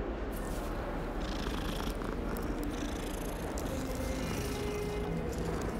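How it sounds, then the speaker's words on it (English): A cat in a video game purrs while being petted, giving a steady, continuous low rumble at even loudness for several seconds with no talking. "Pet the cat, always."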